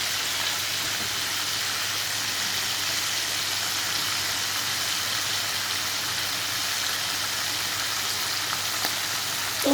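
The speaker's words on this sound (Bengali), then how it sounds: "তো আমি রসুন বাটাটা এর মধ্যে দিয়ে দিলাম। এবার একটু নেড়ে দিই" Onion and garlic paste frying in a pan makes a steady, close hiss that holds evenly throughout, with no talking and only a faint bump at the very end.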